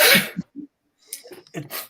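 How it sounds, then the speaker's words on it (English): One sneeze, close and fairly loud, followed by a few short breathy sounds and brief muffled vocal noises. "now I'm sneezing"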